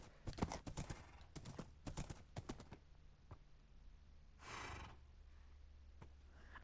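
A horse in the Minecraft video game clip-clops in a quick burst of hoof steps, then a few scattered steps and a breathy snort, all faint.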